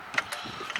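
A few short metallic ratcheting clicks from a tool tightening down the power steering reservoir cover bracket in a car engine bay during alternator work, close and brief.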